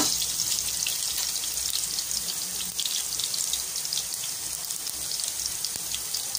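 Garlic and onion frying with ginger in a smoking-hot pan for sinigang na baboy, a steady bright hiss and crackle of oil running throughout, close and even, no voices.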